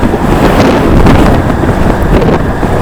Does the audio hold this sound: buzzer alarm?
no